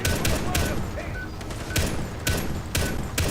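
Machine gun fire in rapid, loud bursts: several sharp volleys spaced a second or so apart over a dense, rattling background of near shots.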